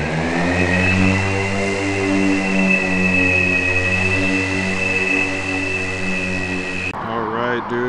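A small camera drone hums steadily and loudly for about seven seconds, a constant whining motor tone with strong harmonics, then its pitch shifts abruptly near the end as it manoeuvres.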